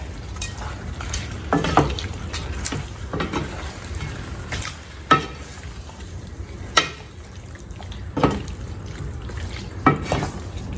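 Chicken mechado ingredients with garlic powder and bay leaves being stirred in a pot: a low bubbling sizzle broken by several distinct scrapes and clinks of a utensil against the pot, with no talking.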